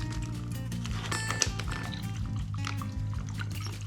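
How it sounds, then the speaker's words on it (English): Brine being poured into a bag holding a chilli-cured ham joint, a steady liquid sloshing and trickling for a few seconds with faint rustling, fairly quiet and close. "we're just going to get the brine into the bag and we'll seal it up"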